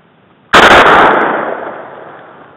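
A single loud rifle shot from a WWII Russian M91 Mosin Nagant fired at a shooting range, a sharp sudden crack followed by a long fading reverberant tail, with no talk over it.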